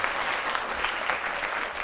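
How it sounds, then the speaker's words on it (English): Sustained applause for children at a spelling bee competition: a broad, even roar of clapping from a studio audience, steady and fairly loud from start to finish with no talk over it. "Can we have a round of applause for these amazing kids?"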